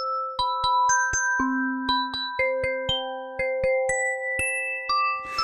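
Plucked, bell-like physical modeling tones from an ASM Hydrasynth Explorer synthesizer, a rapid ratcheting arpeggio of bright, ringing notes stepping through a melodic pattern, close and clear with no talking.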